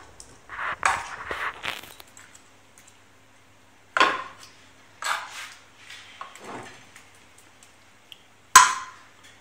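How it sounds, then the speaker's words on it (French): A knife scores a sea bream on a board so the chermoula marinade can soak in, giving close, scattered scraping cuts and light clinks of metal, separated by quiet pauses. "Je vais la couper de la sorte pour bien faire entrer la marinade à l'intérieur."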